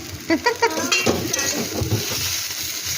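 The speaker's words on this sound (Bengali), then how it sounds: "প্লেট বেড়ে দিচ্ছে" Plates of Maggi noodles being set out and served in a home kitchen, with a quick run of close ceramic clinks and scrapes early on, then softer handling noise under a steady background hum.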